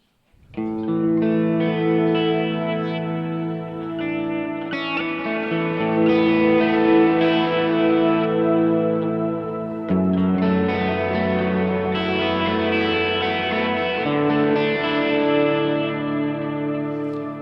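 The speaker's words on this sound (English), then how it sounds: "I do like that sound, but let's add some reverb to it." A clean electric guitar with a wide shimmering chorus and reverb plays sustained chords and melody, loud and steady without pause.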